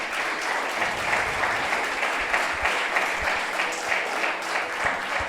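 Congregation applauding loudly in a church service, a steady wash of many hands clapping throughout with no voices standing out.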